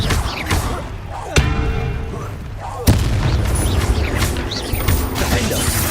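Incendio fire spells in Hogwarts Legacy hit as sharp cracking bursts, two prominent impacts among clattering mechanical combat effects and rumbling noise during a busy duel.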